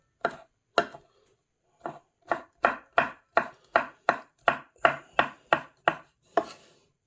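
A knife chops vegetables into thin matchstick strips on a board: a pair of crisp strokes, a short pause, then a steady run of about a dozen evenly spaced chops, close and clear with no talk.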